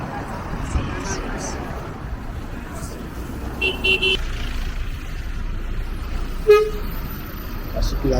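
Road traffic near Grand Bassam, Côte d'Ivoire: a steady roadside rumble of passing cars and trucks, a couple of short car horn toots, and someone speaking French over it.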